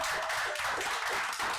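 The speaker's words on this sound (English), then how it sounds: "so give yourselves a round of applause" An improv comedy audience applauds, a dense continuous patter of many hands clapping that fills the room at an even level, with no speech.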